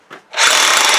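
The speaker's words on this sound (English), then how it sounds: "but there's the drill." A power drill bores into concrete, starting with a brief blip and then a loud, steady whirring grind that runs close up and alone to the end.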